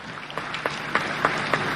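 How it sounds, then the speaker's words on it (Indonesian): Crowd applause during a plenary session of the Jambi provincial parliament, a short burst of many hands clapping in a large hall, with sharper claps rising through the steady patter. "Marilah kita berikan tepuk tangan yang meriah kepada para teladan dan perwakilan Raja dan Sultan Nusantara"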